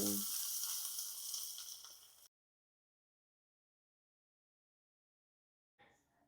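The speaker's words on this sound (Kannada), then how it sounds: "ಒಗ್ಗರಣೆ ತಂಬುಳಿಗೆ ಹಾಕಿದ್ದು" Hot tempering with red chilli sizzles loudly as it is poured into amla tambuli, a steady bright hiss for about two seconds that cuts off abruptly, followed by silence and a faint later sound.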